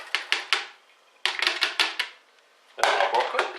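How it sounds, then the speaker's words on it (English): Chopped onion and garlic tumble into a soup maker in a run of quick, light clattering taps. The pieces land in three short bursts separated by brief pauses, close by and fairly soft. "I'm going to pop our onion and garlic in,"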